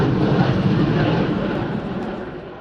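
A single-seater MiG-21 Lancer fighter jet in a solo airshow display roars loud and broad, holding a dense engine rumble that slowly fades as it passes away.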